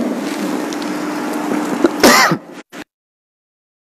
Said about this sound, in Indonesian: Jadi mohon maaf batuk.